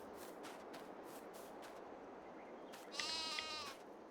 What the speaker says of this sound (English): So far we have one sheep pen with 10 sheep.